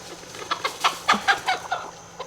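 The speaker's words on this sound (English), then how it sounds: "He's talking about our Rhode Island Red." A Rhode Island Red rooster gives a series of rhythmic clucks and short calls close by, a run of about eight bursts over a couple of seconds.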